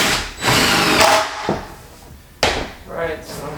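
A power tool drives bolts into nursery organizer panels in short whirring bursts separated by pauses, with clanks and handling noises between runs, close by.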